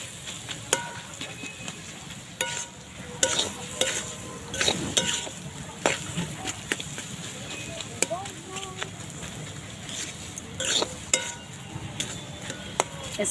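Carrot, beetroot and mashed potato frying together in a pan, a soft sizzle under repeated scraping and tapping of a spatula, with occasional clinks and faint background noise.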